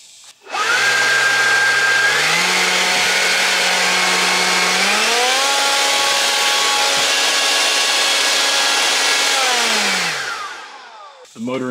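A SKIL 20V cordless leaf blower with a 4 amp hour battery spins up to a loud, steady whining roar. Its pitch steps up twice before it runs evenly for several seconds, then winds down and stops near the end.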